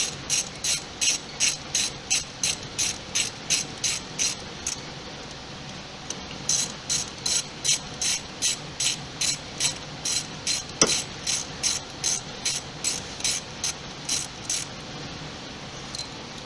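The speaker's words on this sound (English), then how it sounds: "And we'll tighten those bolts." Hand ratchet tightening the throttle cable bracket bolts during a throttle body reinstallation, clicking in two rapid rhythmic runs of repeated strokes with a brief pause between them, close and crisp with no talk.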